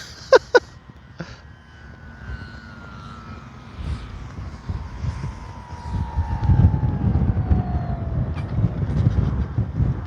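Wind blowing across an RC airfield, rising from a light rush into a heavy, low buffeting roar in the second half, with a couple of brief knocks at the start and a faint electric model plane whining past and fading.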